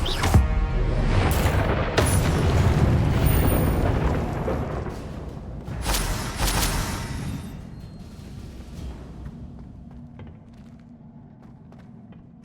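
Confringo blasting spell explosions in the video game Hogwarts Legacy, heavy booming blasts bursting loud in quick succession and then a rumbling decay that fades toward the end.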